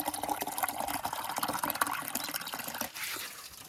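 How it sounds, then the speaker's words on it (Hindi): Water pouring and splashing as a container is filled for bathing outdoors, a continuous gurgling fill with small drips, moderately close and fairly quiet. "ये नहाने के लिए भर रहा हूँ पानी, यहाँ पे नहाऊंगा मैं बाद में।"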